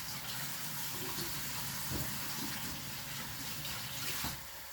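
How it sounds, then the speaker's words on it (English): A kitchen tap runs steadily while hands are washed, a soft, even hiss of flowing water with faint splashes and a few light clunks, no voices. "I'm just going to wash my hands"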